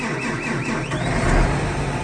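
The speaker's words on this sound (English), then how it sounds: "Well, first tractor of the day." A farm tractor's engine runs steadily on a cold, snowy late-November morning, giving a continuous low mechanical rumble with a faint whine rising over it, fairly close and unbroken.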